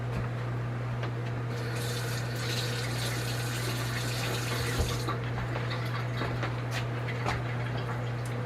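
Water poured into a pot of chili with beans, a steady continuous splashing stream running the whole time at close range with a constant hum behind it, no talk.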